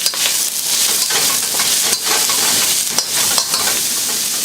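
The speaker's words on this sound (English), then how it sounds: "Just give it a quick stir fry for about 15 or 20 seconds." Prawns stir-fried in a hot pan produce a steady loud sizzle, with rhythmic scrapes and tosses of a utensil recurring throughout, heard up close and without speech.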